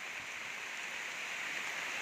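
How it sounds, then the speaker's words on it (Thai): Steady, even hiss of falling rain with no breaks, heard fairly close and moderately quiet, and no voices. "ตรงนี้น้ำฝนหล่นลงมาพอดีนะครับผม"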